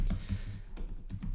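Someone types Java code on a computer keyboard, with quick, close keystrokes pattering steadily for a short stretch.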